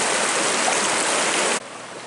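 Water of the Gloucester River in Barrington Tops National Park rushes loud and close as a steady broadband hiss, then drops abruptly to a softer, more distant flow near the end.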